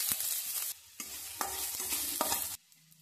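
Onions frying in ghee in a pan for baby food, a loud steady sizzle broken by brief scraping stirs and short pauses, with no talking.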